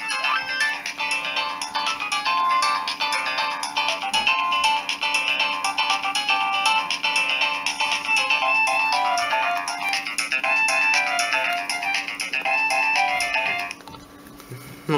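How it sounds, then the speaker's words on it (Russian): A 32-voice polyphonic ringtone plays from a Nokia 1208 mobile phone, a dense busy melody sounding loud and steady for most of the clip before cutting off near the end. "Это 32-голосная полифония"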